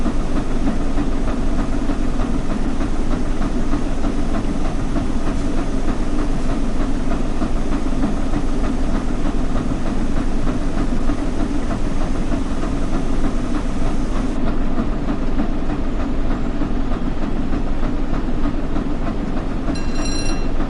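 The Flying Scotsman steam locomotive rolls along steadily in Train Sim World 4, a constant loud rumble with a faint clickety-clack of wheels on rail, unbroken for the whole stretch and with no talking.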